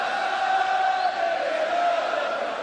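Darts crowd at the 2017 Players Championship Finals, a broad sustained murmur of chanting and shouting from a large arena audience between throws.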